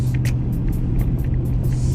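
Inside a car driving home, a steady low engine and road rumble hums throughout with faint ticking noises above it, no voices.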